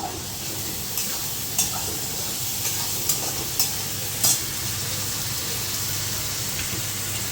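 Fish cooking in a pan over a medium flame for a Bengali fish curry, a steady close sizzle with a few sharp clicks of a spatula stirring, no talking.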